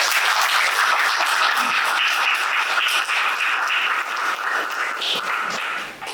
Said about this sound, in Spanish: Le damos un aplauso al profesor.